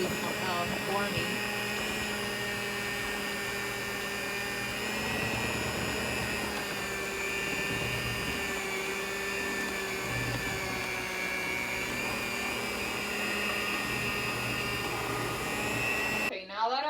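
A stand mixer churns marshmallow fondant with a steady, continuous motor whir that runs evenly throughout before cutting off right at the end.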